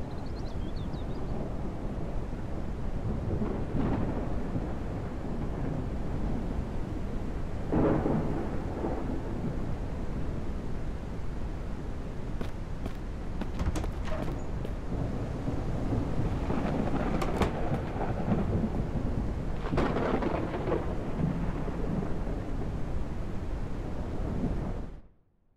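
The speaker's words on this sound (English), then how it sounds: "and just wait for this storm to pass" Steady heavy rain with rolling thunder from a storm in the survival game Mist Survival, a continuous loud downpour across the whole stretch with several deeper thunder swells around the middle and later on, then an abrupt cutoff at the end.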